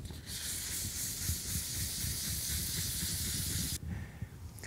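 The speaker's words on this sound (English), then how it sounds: "I sand in a pattern, so I'll go side to side, you know, and then I'll top to bottom." Sanding block drawn by hand across boat gelcoat with 400-grit paper, a steady close broadband rasp with faint repeated strokes, continuous for several seconds then briefly easing before resuming.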